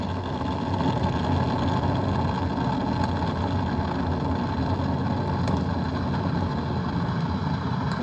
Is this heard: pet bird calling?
no